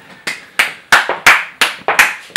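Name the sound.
audience applause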